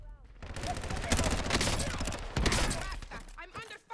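Rapid gunfire crackles through a video game firefight, dense bursts of shots with a sharp loud spike in the middle, while someone talks over it.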